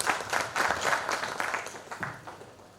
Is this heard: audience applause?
yes